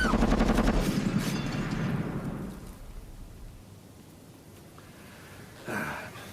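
Rapid burst of gunfire in a radio drama shootout, loud and dense at first with overlapping shots, then trailing into a quieter tail before one more sharp shot near the end.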